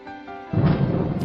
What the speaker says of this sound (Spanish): truenos ensordecedores hicieron temblar el cielo y la tierra